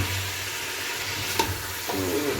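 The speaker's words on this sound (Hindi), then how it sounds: "गोश्त को मैं अच्छी तरह फ्राई कर लूँगी।" Mutton sizzles in a pan for hareesa, a steady close crackle and hiss with light stirring scrapes throughout and no talking.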